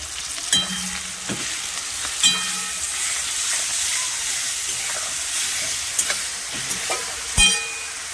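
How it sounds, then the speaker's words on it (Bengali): Dried shrimp fry in a pan with turmeric and salt for a Bengali dish with greens, an even sizzle broken by several sharp spatula knocks and scrapes against the pan, close up and without voices. "ভালো করে ভেজে নেবো মেথে চিংড়িটা চিংড়ি মাছটা নেড়ে নেবো"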